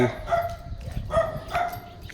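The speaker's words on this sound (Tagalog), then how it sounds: "Dami aso dito." Several dogs bark in short bursts at a moderate distance at a government housing construction site in the Philippines, mixed with outdoor background noise and a faint voice.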